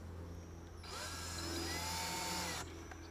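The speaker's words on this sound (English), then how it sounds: "Now I'm getting some good healthy screws into here," A power drill drives a stainless steel screw into cedar wood in one close, loud whirring burst that lasts under two seconds and then stops, set against a quiet background hum with no talking.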